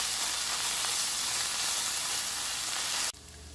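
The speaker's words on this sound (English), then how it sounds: "And I'm adding in the turmeric, and then we stir it in." Turmeric stirred into hot oil for curried rice gives a steady, close, loud sizzle of frying with no voices, and it cuts off sharply near the end, leaving quieter hiss.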